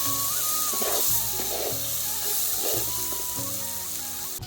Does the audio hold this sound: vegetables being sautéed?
yes